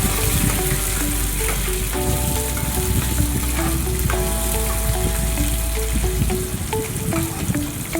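Green chillies and curry leaves tempering in hot oil for lemon pulihora give a loud, steady, crackling sizzle with scattered sharp pops, close up and continuous under soft tonal background music.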